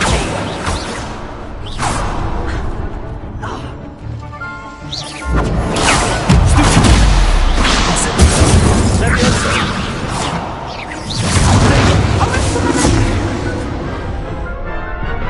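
An Incendio fire spell cast during Hogwarts Legacy combat, heard as loud, repeated bursts, whooshes and crashing impacts that run almost continuously and up close.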